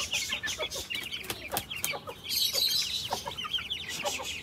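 Hens clucking close by in a backyard pen, a busy run of short, overlapping clucks and chirps that keeps going with no pauses.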